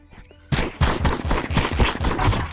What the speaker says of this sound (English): Auto shotgun is actually kind of wild.